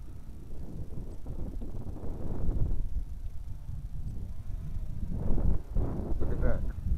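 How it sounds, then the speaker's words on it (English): Gusty wind buffets the microphone in low rumbling surges, strongest toward the end, with no clear talking, outdoors while flying a JJRC X9 Heron drone. "As you can see, it's really windy out here."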